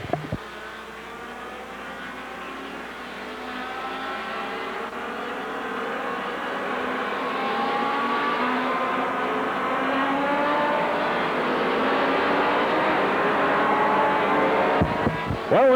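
Can Am TQ midget race cars in a feature race at Holland International Speedway in 1994, with a loud, high-pitched engine whine that swells and pitches up as the cars pass close by, continuous across the whole stretch.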